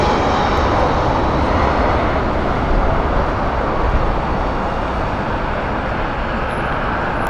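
An ATR turboprop airliner at Heathrow Airport gives a loud, steady broadband roar that holds constant throughout, close and without any voices.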